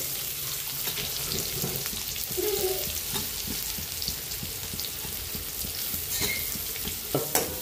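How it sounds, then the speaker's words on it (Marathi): Onion frying in hot oil with cumin and garlic, a steady close sizzle running throughout with occasional stirring scrapes and a few sharper clinks near the end. "जिरे टाकून घेऊ, लसणाच्या 5-7 पाकळ्या घातल्या ते लसूण त्यामध्ये कांदा टाकून घेऊया।"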